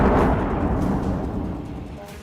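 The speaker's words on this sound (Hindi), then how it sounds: "अचानक बहुमंजिला इमारत से ड्रोन टकराता है, जोरदार धमाका होता है।" A drone strike explosion on a multi-storey building in Kyiv at night, a loud deep boom at the start with a rumbling roar that slowly fades away.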